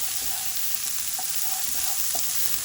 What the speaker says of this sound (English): add the carrots and stir well.